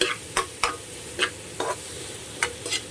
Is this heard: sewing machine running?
no